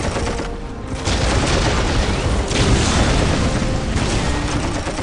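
Ork artillery shells exploding in the Dawn of War Definitive Edition siege mission, dense booming blasts and rumbling detonations overlapping continuously, loud with no speech.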